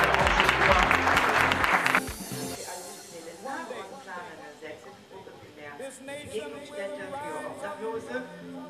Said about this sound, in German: Klatsch mal, Wolfgang